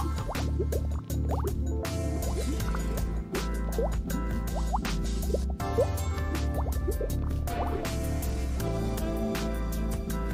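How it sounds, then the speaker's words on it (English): Stella Artois unfiltered lager poured from a 330ml bottle into a glass, with continuous glugging, dripping and fizzing liquid sounds running steadily throughout, close and fairly loud, no talking. "Beer in the glass"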